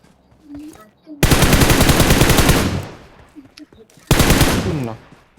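Loud bursts of rapid automatic gunfire from the PUBG video game, a long volley followed by a shorter one after a brief pause, with a quiet voice in the gaps.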